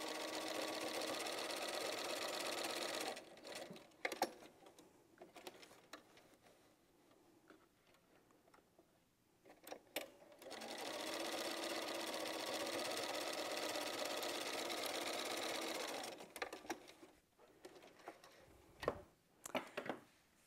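A sewing machine top stitches quilt strips in two long runs of rapid, even whirring stitches, close and moderately quiet, separated by pauses filled with soft handling noises and fabric shuffling.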